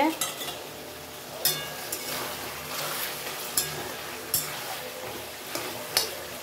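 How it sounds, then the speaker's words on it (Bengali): Meat being sautéed and stirred in a pan, with a steady sizzle broken by a few sharp spoon knocks against the pan at regular intervals; no talk. "দেখো আমার মাংসটা কষানো হয়ে গেছে।"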